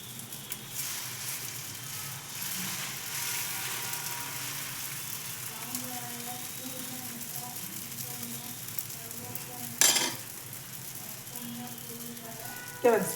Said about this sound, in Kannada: ದೋಸೆ ಹಾಕ್ಕೊತಿದ್ದೀನಿ